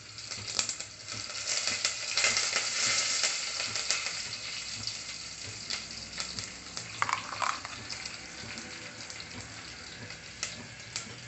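Curry leaves sizzling in hot oil while tempering rasam, a steady close crackling fry with a few sharp metallic clinks from the pan, no voices.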